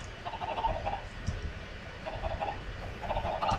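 Minecraft chickens clucking in repeated bursts, about sixteen birds chattering together over a low rumbling background.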